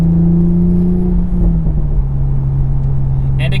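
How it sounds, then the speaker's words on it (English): A 2020 Toyota Supra engine hums steadily, then its pitch drops as the transmission downshifts two gears under braking, leaving a low, close drone that fades into a quieter rumble. "that was a perfect 2-gear downshift when it sensed me getting on the brakes"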